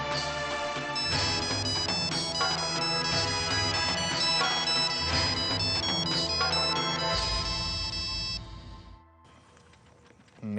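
A phone ringtone plays a steady, bright repeating melody for about nine seconds, loud and close, then cuts off, as a call is placed to Abhi at home.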